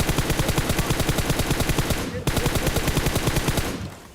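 Rapid automatic gunfire from a PUBG match, loud sustained bursts of evenly spaced shots that briefly break off midway, then resume before fading out.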